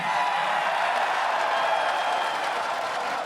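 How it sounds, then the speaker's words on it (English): A large esports crowd at an LCS Spring Championship event cheers and applauds in a steady, dense roar that holds at an even level throughout. "A lot of agreement from the crowd, it seems."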